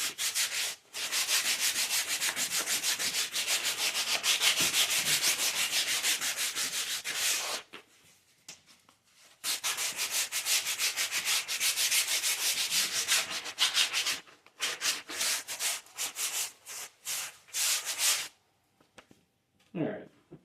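An axe handle being sanded by hand with 150 grit sandpaper, brisk rapid scrubbing strokes in long bursts with short pauses, close and fairly loud, no speech.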